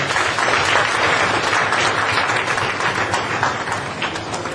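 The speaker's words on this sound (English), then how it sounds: "So kindly give her a round of applause." A seminar audience applauds a guest, a full, dense wash of clapping that stays loud for several seconds and then eases off slightly toward the end.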